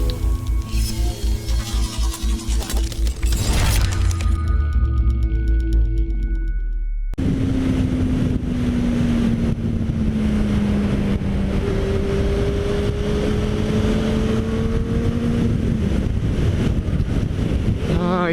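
A Benelli 600i ABS inline-four motorcycle idles with a steady low hum, then gets under way, its engine note rising and falling beneath loud, constant wind buffeting on the microphone.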